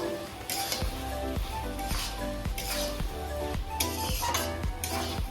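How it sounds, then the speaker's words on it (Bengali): Cut taro stolons (kochur loti) stirred with spices in a pan, with repeated metal spatula scrapes and clinks in a steady rhythm over a faint sizzle, close and clear. "এই যে লতিটা কেটে রেখেছিলাম এটা দিয়ে দিচ্ছি মশলার সঙ্গে ভালো করে মিশিয়ে নেব"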